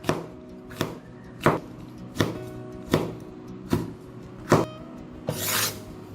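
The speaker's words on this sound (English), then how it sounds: "Five fresh red chilies that I'm chopping up" Steady knife chops through fresh red chilies on a cutting board, about seven evenly spaced sharp cuts, close and clear, ending with a rougher scraping stroke.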